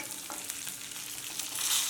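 Onions frying with curry leaves and coriander in a pan for a spicy hotel-style tomato chutney, a soft steady sizzle with light stirring scrapes, growing slightly louder toward the end.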